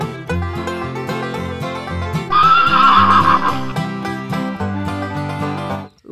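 A toy horse gives a loud electronic neigh and whinny over a steady synthesized music backing, with the whinny standing out in the middle of the clip.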